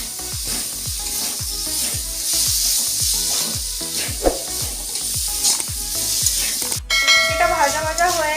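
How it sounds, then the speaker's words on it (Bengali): Potatoes, tomatoes and peas with ginger paste fry in a pan, a loud continuous sizzle broken by regular scraping stirs, and a spatula taps metal near the end. "ভাজা ভাজা হয়ে গেছে আলু, টমেটো আর মটরশুঁটিটা"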